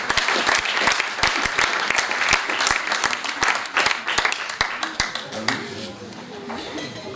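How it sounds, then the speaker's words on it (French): An audience applauding award-winning athletes at a sports merit reception in Saint-Sever, sustained clapping with sharp individual claps, tapering slightly toward the end. "On peut vraiment les applaudir parce que c'est tous les premiers de venir."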